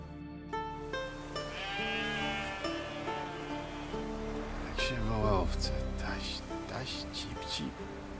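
Sheep bleat in The Witcher 3 video game, with wavering cries rising over a steady music and ambient bed, then a few sharp clicks and thumps toward the end.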